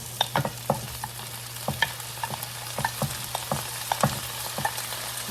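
Shrimp fry in a pan with a soft, steady sizzle. Regular clicking scrapes and taps of a utensil stirring them recur every half second or so, with no voices.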